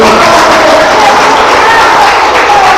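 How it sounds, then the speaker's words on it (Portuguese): A church congregation applauds and cheers its God during a worship service, a loud, continuous wash of clapping with a voice carrying over it. "Vamos aplaudir o nosso Deus"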